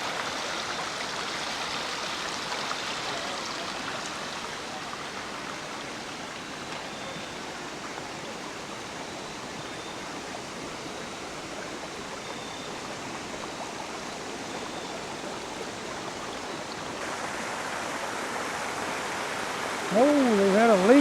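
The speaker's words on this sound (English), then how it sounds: "leak in the flume line." Water runs steadily from a leaking flume line in Cades Cove in autumn, a constant broadband rush like a small stream, close and even, with a brief louder rustle and voice near the end.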